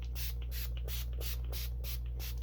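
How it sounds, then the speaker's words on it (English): A spray bottle mists water onto watercolor paper in a rapid series of about seven short, hissing bursts, close and steady, with no talking. "and then I will spray my watercolors also, just to activate them"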